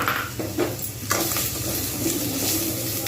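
Olives frying in a pan with salt and turmeric make a steady, close sizzle, with a few scraping strokes from a stirring spoon early on.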